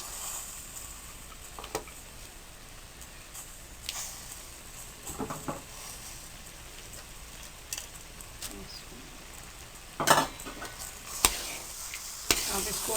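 Makhandi halwa with nuts and coconut is stirred and roasted in a pan, giving a low sizzle with scattered scraping and tapping of a spoon and a few sharper knocks toward the end.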